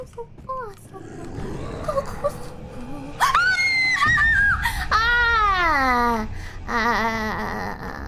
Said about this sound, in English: Now we got the first scream out.